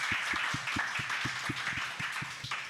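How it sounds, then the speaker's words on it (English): Studio audience applauding at a live Monday evening speaking event, a few distinct claps standing out over steady crowd clapping throughout. "Round of applause!"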